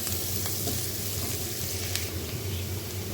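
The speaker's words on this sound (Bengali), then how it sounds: "সেই তেলের মধ্যে আমি পেঁয়াজ কুচি দিয়ে দিয়েছি পেঁয়াজটা একটু লাল লাল হোক" Chopped onions fry in hot oil for a vegetable curry, giving a steady, close sizzle that stays even and unbroken throughout, with no talking.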